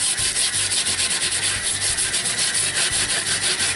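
Fast, rhythmic scrubbing strips rust from a cast iron pan being reconditioned, a loud, close, continuous scraping with even back-and-forth strokes throughout and no talk.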